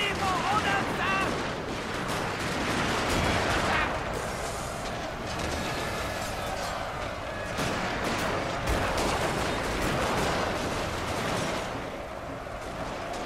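Musket volley fire from kneeling ranks during a large battle in Shogun 2: Fall of the Samurai, a sustained roar of overlapping rifle shots and rumbling battlefield noise throughout, dense and unbroken, with scattered louder cracks.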